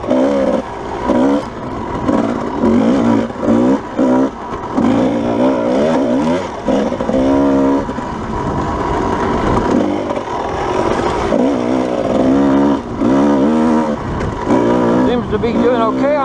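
A dirt bike engine revs and rises and falls in pitch while riding a rain-soaked trail of tacky soil, loud and close throughout, with a voice talking at times.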